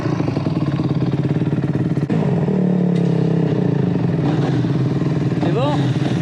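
A Honda CRF 250 R or CRF 150 R motocross motorcycle is ridden, its engine droning loud and close with a steady buzzing tone, shifting pitch partway through and revving briefly near the end, with wind and clatter.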